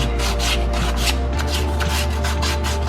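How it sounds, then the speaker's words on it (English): Sandpaper rubs steadily across a wheel tub in close, continuous rasping strokes with a rhythmic back-and-forth pulse and no talk. "Sandpaper, and then clean off this tub."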